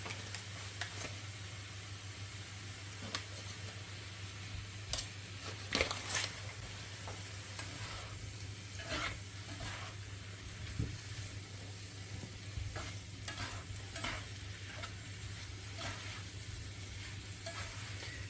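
Onion and mushrooms frying in butter in a pan, a steady low sizzle with occasional soft stirring clicks and scrapes throughout, fairly quiet and close, with no talking.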